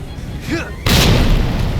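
A deep, booming explosion bursts suddenly in the Resident Evil 2 video game, loud and broad after a brief quieter stretch with a faint rising tone.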